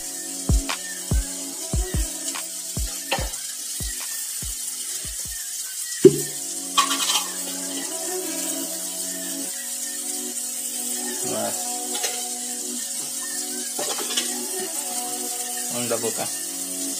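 An egg frying in oil in a pan, a low sizzle under a voice speaking, after a run of sharp clicks and knocks, with occasional clatters and splashy bursts of hot oil.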